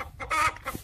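A hen clucks in short, close bursts at a backyard coop while being checked for a freshly laid egg, the calls loud and uneven over a brief moment with no talking.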